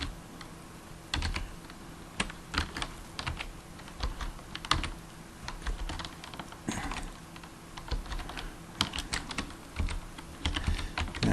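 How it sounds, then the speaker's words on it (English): Computer keyboard keys typed in a quick, uneven run of clicks with short pauses, close up and alone, as an email address is entered into a Word document. "I'll type my email address."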